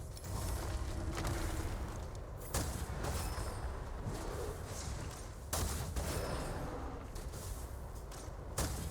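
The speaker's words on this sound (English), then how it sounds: "It's funny because I'm using a rocket launcher." Rapid, steady gunfire-style blasts from a rocket launcher in the video game Gunfire Reborn, dense and continuous throughout, with sharp louder bursts punctuating the constant mechanical clatter.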